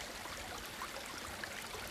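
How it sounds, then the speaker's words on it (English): Flowing water around Cheddar in England, a steady close rushing and trickling wash that stays even throughout with no voices. "Right, well that is the sound of water."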